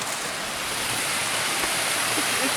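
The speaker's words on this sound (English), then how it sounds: "Man, look at that. The Ramblewood Waterfall." Ramblewood Waterfall rushes as a steady, dense hiss of falling water at a campsite, close and constant throughout, with no break in the roar.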